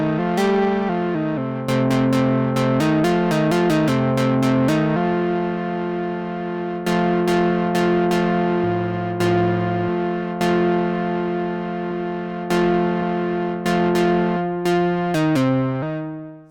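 A Behringer Model D synthesizer plays a buzzy, harmonically rich lead from stacked oscillators with white noise mixed in, sounding a sequence of sustained notes, some in quick runs and some held long, loud and alone.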